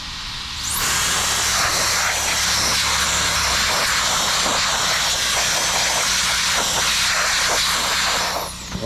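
A handheld air gun blasts a strong, steady hissing rush of air for about eight seconds, starting abruptly and cutting off near the end, loud and close with no talking.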